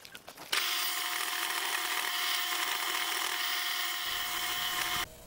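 A power sander whirs loudly and steadily against wood while shaping a wooden belt buckle, a continuous high abrasive whine that starts abruptly and cuts off near the end.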